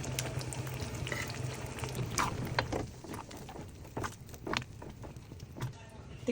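Pasta water poured into a frying pan of simmering spaghetti sauce, a steady sizzle and bubbling with stirring scrapes throughout, close and moderately loud, with no talking.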